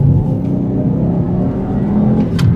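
Volvo V40 with a five-cylinder engine accelerating, a loud, steady low warbling drone with a throaty rumble that builds gradually throughout, heard alone without voices.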